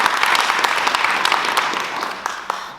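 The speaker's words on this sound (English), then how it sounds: "so we're going to clap it up for them also" A community audience at a youth theater show claps for a local organization: brisk, dense applause from a packed room, steady and fairly close, tapering slightly at the end.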